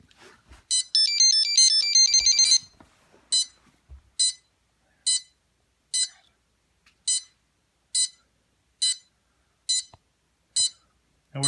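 A DJI F450 quadcopter powers up indoors with a burst of rapid electronic startup tones, followed by a regular series of short, bright beeps repeating about once a second, fairly quiet and close.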